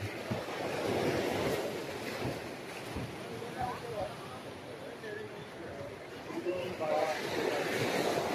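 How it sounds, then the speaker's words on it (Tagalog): Strong sea waves wash and churn around a boat while island-hopping off Caramoan in the Philippines, a continuous rough rush of water and wind buffeting the microphone, with people talking faintly underneath. "ang lakas ng alon"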